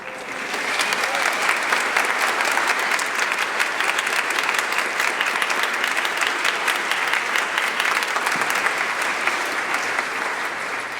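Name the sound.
audience applause for directors at concert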